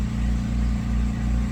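A small portable generator engine, freshly started, runs at a steady, even idle with a constant low mechanical hum close by, with no voices.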